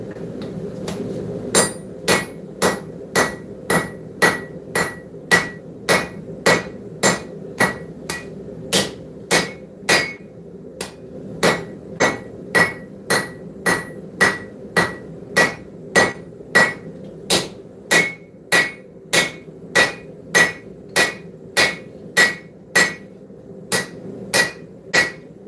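Hot metal is hammer-forged on an anvil in a shop, with steady, sharp ringing blows at a quick even pace and a brief pause near the middle, loud and close.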